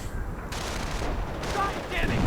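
A Hummel heavy self-propelled artillery piece fires shells in a World War II strategy game, dense booming blasts layered over continuous battle noise, with a voice talking over it.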